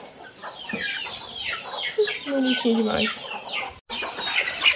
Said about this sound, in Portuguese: Agora vamos alimentar as galinhas